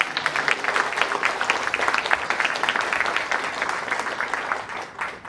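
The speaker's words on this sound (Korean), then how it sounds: "한번 박수로 한번 응원하겠습니다" An audience at an orchestra concert event gives a steady round of applause in a hall to cheer on a guest lawmaker. The dense clapping is moderately loud and sustained, then tapers slightly at the end.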